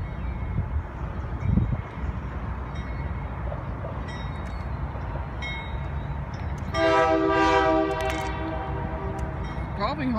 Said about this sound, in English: There's the train. Here it comes.